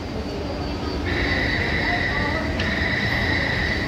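An LRT train pulls into an underground station near Chiang Kai-shek Memorial Hall with a loud, constant rumble and high, sustained wheel squeals that shift pitch partway through.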